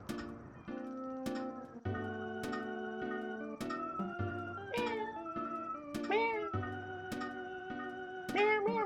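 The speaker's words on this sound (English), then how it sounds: "You can literally hear like a chorus of cats meowing in the background in this town." In a town in the video game Earthbound, a chorus of synthesized cat meows rises and falls over a stepping, chiming game music track, loud and repeating throughout.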